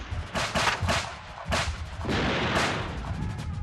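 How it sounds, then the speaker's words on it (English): Battle gunfire and artillery fire in dense, overlapping bursts, with heavy booms and rapid volleys rolling into one another continuously. "The blaze from the artillery and small arms was incessant."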